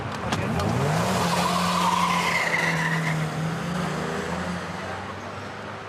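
Car tyres squeal loudly as a vehicle speeds away in a 1987 crime reconstruction, a long rising screech over engine roar that fades gradually as the car pulls off.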